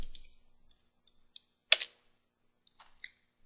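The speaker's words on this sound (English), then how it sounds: "Let's type in ls," A few sparse computer keyboard key clicks as a short command is typed, close and quiet, with a louder double clack near the middle and long silent gaps between presses.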